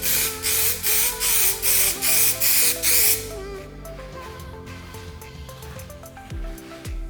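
Aluminium speaker grill spray painted in a series of short, loud hissing bursts from the can, about seven in a steady rhythm, followed by quieter background with music underneath.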